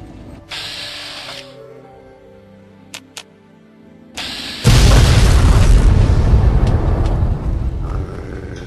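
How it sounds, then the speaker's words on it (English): Pulse grenades going off in Fallout 3 against a robot: a sharp burst and a couple of clicks, then a heavy booming blast that rolls on as a loud roaring rumble, with no voices. "It's gonna use some pulse grenades on it. Pulse grenades."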